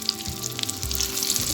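Eggs frying in a pan, a close, steady bubbling sizzle with crackling pops and a faint background hum, briefly and without talk.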